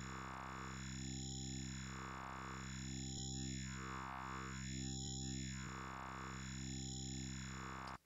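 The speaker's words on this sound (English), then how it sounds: "It sounds like the Serum one is stuttering just a little bit at very high rates, though." Serum software synthesizer playing a sustained wavetable tone with effects, sweeping in a regular cycle of roughly two seconds, with a slight stutter and cracking-up at very high modulation rates; steady and loud, no talking.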